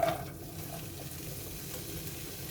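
Chopped onions fry in a pan for a Russian/Ukrainian-style shepherd's pie, giving a steady, close, even sizzling hiss that carries on without any talking.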